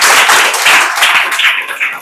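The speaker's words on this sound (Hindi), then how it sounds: "जोरदार ताली बजा दीजिए।" A classroom of students clapping loudly together, a dense and continuous burst of many hands that stays close and strong for about two seconds.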